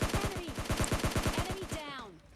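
Rapid automatic gunfire in the PUBG Lite video game, a steady burst of about a dozen sharp shots fired in quick rhythm, then a short ringing tail.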